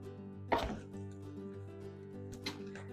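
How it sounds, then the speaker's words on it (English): A knife chops vegetables such as green onion on a board during freezer-meal prep, giving two crisp, separate chops about two seconds apart over a steady appliance hum. "we're going to start with chopping up our veggies."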